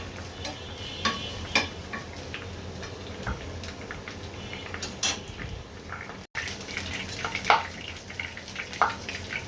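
Chilies frying in hot oil for a pumpkin and shrimp dish give a soft, steady sizzle with scattered crackles and pops, close and fairly quiet, with light stirring clicks.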